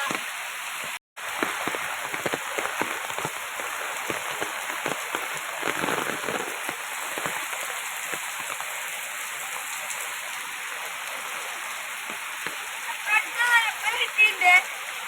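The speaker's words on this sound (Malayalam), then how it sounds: "ഇത് കണ്ട നല്ല കോരി ചൊറിയണ മഴയാണ്" Heavy, pouring rain keeps up a steady, dense broadband patter for the whole stretch, with a brief dropout near the start and a few louder splashes toward the end.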